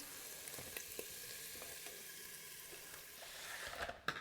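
Tempeh frying and browning in a pan, a continuous soft sizzle with scattered pops and a brief clatter near the end.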